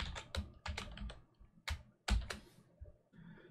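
Someone types on a computer keyboard, producing soft, irregular clusters of nearby key clicks with short pauses between bursts in a quiet room.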